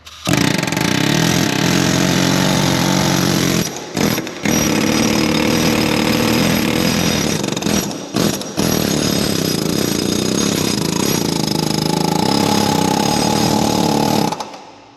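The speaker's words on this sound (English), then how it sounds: "I think the air hammer's gonna take her out now." A pneumatic air hammer rattles loudly and continuously knocking out a hydraulic cylinder on a John Deere 550H dozer, stopping briefly twice before hammering on, harsh and close.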